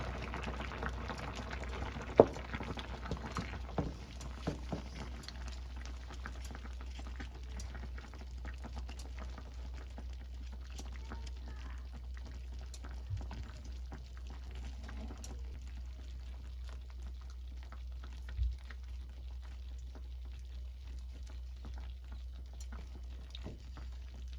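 Catfish pepper soup simmers on high heat in a home kitchen pot, a faint, steady low bubbling with scattered small pops and a few louder clinks, continuing without speech.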